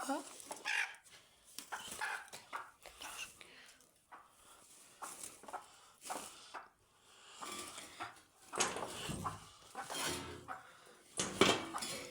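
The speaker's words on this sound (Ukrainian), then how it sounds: "Бачите, у мене дві квочки." Broody hens cluck in a village coop, giving soft, intermittent clucks mixed with clattering and rustling handling noises, while a person talks nearby.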